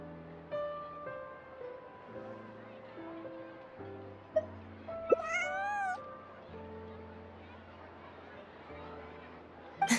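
A cat meows once, brief and bright, in the video game Genshin Impact, set over soft, sustained background music.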